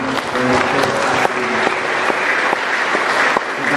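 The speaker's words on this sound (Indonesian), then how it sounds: "kita beri tepuk tangan untuk" Congregation applauding during a Catholic mass celebrating a newly ordained priest's first service, thick continuous clapping filling the church, loud and close.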